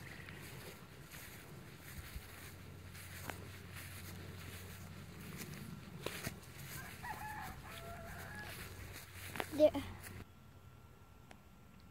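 Hens cluck at a farm with apple orchards, the calls quiet and scattered over a steady outdoor background, with a louder squawk near the end.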